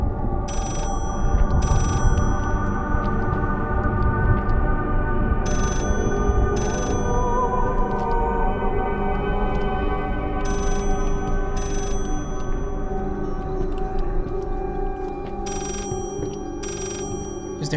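A telephone rings repeatedly in the horror video game Layers of Fear, its bright bell bursts recurring at intervals over a loud, droning, rumbling game ambience.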